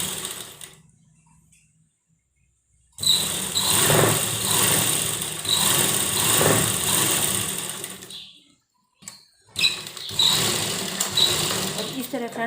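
A sewing machine stitching a baby frock runs in two long, steady, whirring bursts, close and fairly loud, with a short stop between them and quiet before the first.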